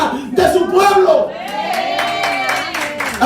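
A church congregation bursts into applause, dense clapping from many hands rising quickly and continuing steadily while a preacher keeps speaking loudly over it.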